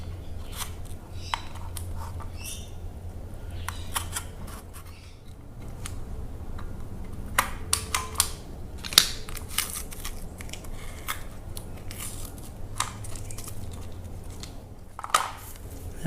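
A knife drawn along masking tape pressed onto car interior plastic trim, giving soft scraping and crisp snipping sounds in short bursts, close and quiet, with occasional small clicks from handling the parts.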